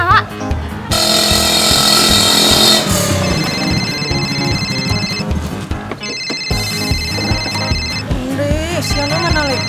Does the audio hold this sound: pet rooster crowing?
no